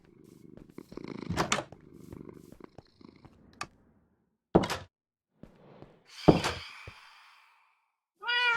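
A Minecraft cat purrs in short rumbling bursts, broken by a few soft thuds and a couple of brief, clear meows near the end, all close and fairly quiet with no talking.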